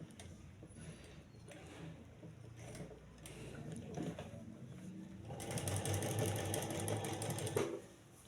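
A sewing machine stitches a flat collar band in short bursts of fast whirring, getting louder and denser toward the end, with brief pauses and faint handling between runs.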